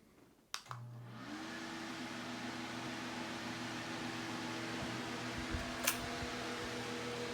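A room full of electric fans, including a socket fan and a Holmes window fan, clicks on and spins up together into a steady, fairly faint whirring hum, with a couple of sharp switch clicks.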